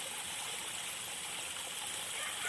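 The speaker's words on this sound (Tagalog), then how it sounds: "Mayroon palang malakas na tubig dito" Rainwater rushes downhill in a strong stream near farm fields, a steady broadband gush that stays loud and unbroken throughout, with no talk.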